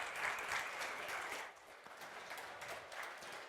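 Audience applause at a seafarers' industry stage event welcoming two union delegates, a steady dense wash of clapping from a seated crowd that stays even throughout with a slight dip midway.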